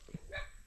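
Neighbour's dog barking, a single short, faint bark heard from a distance.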